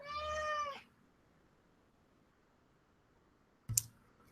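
A single short meow from a nearby cat rings out, then quiet, then a sharp click near the end.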